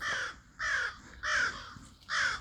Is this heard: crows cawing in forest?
yes